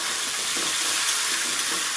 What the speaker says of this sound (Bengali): ফোড়নটা ভালো করে হলে তারপর দিয়ে দিলাম কুচানো পেঁয়াজ।